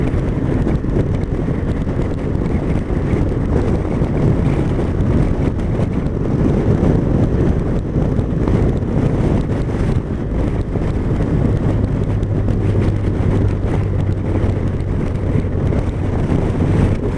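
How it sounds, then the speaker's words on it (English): Strong, steady wind buffeting the microphone outdoors, a loud continuous low roar and rumble that persists throughout with no talk. "this sort of wind is actually quite energy sapping"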